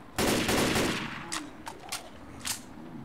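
Gunfire in Left 4 Dead 2: one loud, sustained burst up front, then three or four sharper, fainter shots spaced about half a second apart.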